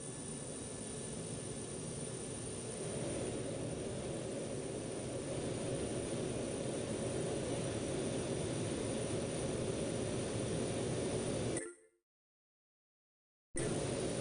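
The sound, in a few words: aircraft taking off from Ronald Reagan National runway 4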